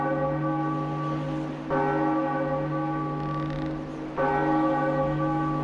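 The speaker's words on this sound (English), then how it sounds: "They send you to the top of the tower to ring the bell." A large tower-top bell in The Legend of Zelda: The Wind Waker tolls twice, each strike ringing out loud and sustained with a long resonant decay, no voices.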